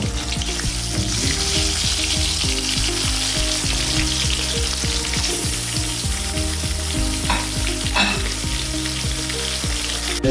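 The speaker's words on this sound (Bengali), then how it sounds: "এইভাবে কড়া করে ভেজে নেবেন মাছটা কিন্তু কড়া করে ভাজতে হবে" Bhola fish frying crisp in hot oil, a loud continuous close sizzle with constant popping crackle throughout, no one speaking.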